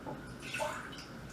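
Water is poured into a pan to make syrup for soaking the sponge of a Ferrero Rocher Christmas log cake; a brief, close splashing gurgle lasting about a second.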